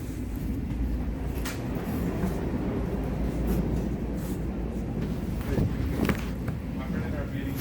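Inside a moving passenger train, a continuous low rumble and rattle of the carriage runs throughout with occasional clicks and knocks, and people talk nearby over the noise.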